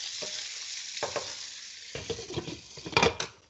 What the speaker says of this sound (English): I'm going to take one break from stirring to kind of saute these on up because we don't want it to stick